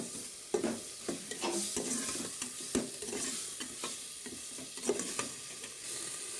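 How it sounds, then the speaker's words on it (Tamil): Shallots and tomatoes sizzle steadily as they are sautéed and stirred for Tamil-style mutton dalcha, with continuous frying hiss and repeated scraping stir strokes close up, no talking. "30 கிராம் சின்ன வெங்காயம் சேர்த்து நல்லா வதக்கணும்."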